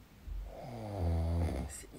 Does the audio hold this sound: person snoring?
yes